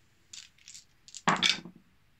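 Dice rerolled for initiative in a Classic Battletech tabletop game, a few soft shakes followed by a sharp clatter as they land and roll to a stop on the table, close with no voices.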